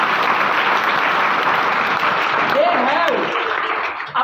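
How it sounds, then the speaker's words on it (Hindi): A crowd applauds loudly for Indian cricket captain Rohit Sharma, dense clapping continuing throughout, with a voice briefly heard over it before it tapers off. "वर्तमान कैप्टन रोहित शर्मा के लिए जोरदार तालियां हो जानी चाहिए।"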